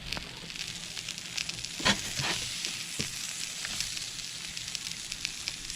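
Burger patty sizzling steadily on a griddle during RV cooking, a close, even hiss with a brief scrape and sharper sputter as it is flipped, no voices.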